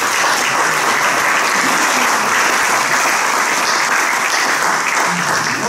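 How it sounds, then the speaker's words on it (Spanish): Loud, dense audience applause fills a flute festival concert hall, steady and continuous throughout, with no pauses. "No se cansen de aplaudir,"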